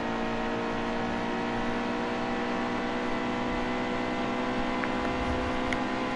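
Race cars roar around the track in a NASCAR Cup Series video game at the Auto Club 400, a continuous, dense engine drone that holds steady throughout with no voices.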